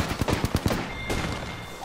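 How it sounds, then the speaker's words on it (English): Rapid bursts of gunfire in the battle royale video game Apex Legends, a quick run of about five sharp shots in the first second followed by fainter distant firing and game noise. "There's someone shooting."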